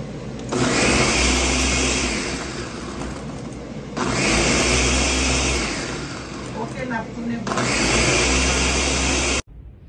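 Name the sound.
blender blending soursop cream with milk and sugar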